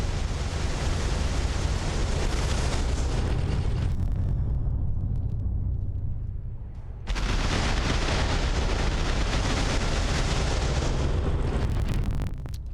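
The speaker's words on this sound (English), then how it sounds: "And that noise is all of the cannons immediately firing." A continuous, heavy roar of rapid cannon fire in a Warhammer 40K video game fills the air, briefly dropping away before erupting again at full force.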